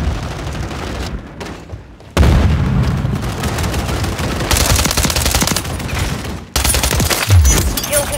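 A stun grenade goes off amid heavy rapid gunfire in Call of Duty Modern Warfare 3 multiplayer, dense shooting throughout with loud booming bursts, a brief dip into near silence, then renewed volleys.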